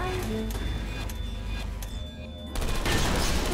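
Turret gunfire in Portal Stories: Mel, rapid crackling shots that are loud and continuous, dipping briefly before a heavier renewed burst near the end.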